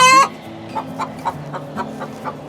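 Chickens in their barn area give a series of soft, close clucks at an even pace after a brief louder squawk at the start.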